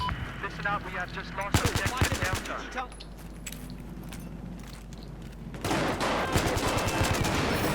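Saiga shotgun gunfire in Battlefield 4: rapid bursts of sharp shots, a quieter stretch, then a dense sustained volley, with players talking over the game.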